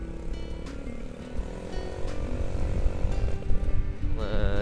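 Honda Beat scooter fitted with an RCB exhaust, revved while riding, giving a steady buzzing engine drone that builds in pitch near the end, close and fairly loud.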